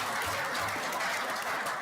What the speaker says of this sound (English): So I think that also deserves a huge round of applause.